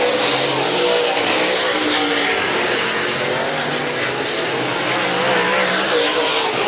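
Late model race cars racing at Raceway Park in a heat race, engines roaring continuously as the pack passes, loud and sustained with tire noise mixed in.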